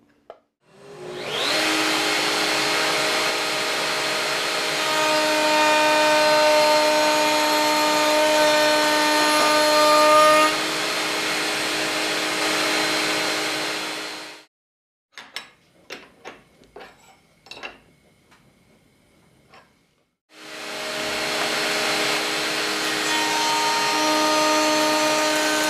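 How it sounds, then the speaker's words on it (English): A router fitted with a cove and bead bit profiles the outside edge of a wooden lid. It gives a loud, steady whine in two long runs, with a short burst of clattering and knocks in the pause between them. "Put a profile on the outside edge using the cove and bead bit."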